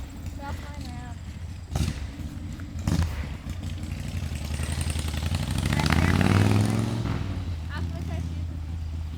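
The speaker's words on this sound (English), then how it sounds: "Guy on a motorcycle." A motorcycle rides past in a residential area, its engine rising to a louder pass mid-way and then fading, with people talking throughout.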